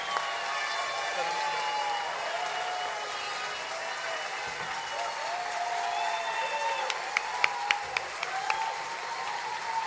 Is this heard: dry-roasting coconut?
no